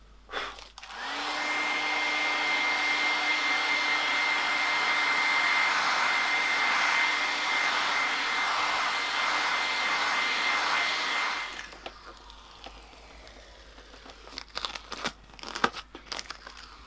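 A hairdryer blows loudly and steadily for about ten seconds while heating old stickers on a bike, with light crinkling as they start to lift, then it switches off and a few scattered rustles and taps follow.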